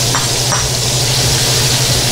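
Garlic and onion sizzle steadily in butter in a pan, a loud, close, continuous hiss with a couple of faint clinks near the start.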